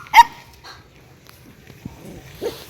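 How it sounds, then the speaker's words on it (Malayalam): Two dogs bark at a person, with a sharp loud bark at the start, a fainter yip shortly after, and another bark near the end, separated by quiet pauses. "എന്നെ കുരച്ചു അടിക്കാൻ നോക്കുകയാണ് 2 സുന്ദരന്മാരെല്ലാം കൂടെ"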